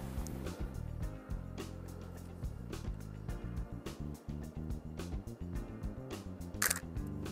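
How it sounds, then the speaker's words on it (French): A single camera shutter clicks once while taking a portrait against a pillar of the Saint-Mathieu abbey. The click is short and sharp over steady background music. "Et puis, je vais prendre une photo."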